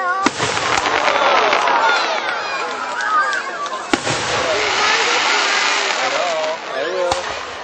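Fireworks at a July 4th show in Grand Mound, Iowa crackle and boom overhead in a dense, continuous barrage with sharp bangs, while people nearby talk and call out over the noise.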